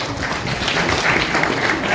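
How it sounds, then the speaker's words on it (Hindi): Enthusiastic applause from an audience at a school prize ceremony for a third-place student, dense continuous clapping that stays loud for the full two seconds. "ग्रुप सी में तृतीय स्थान पर रहे छात्र के लिए जोरदार तालियां हो जाए"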